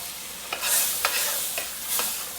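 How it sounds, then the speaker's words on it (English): A base gravy for British Indian restaurant cooking sizzles steadily in a pan while a spoon scrapes through it in four even, close stirring strokes. "And stirring it up again."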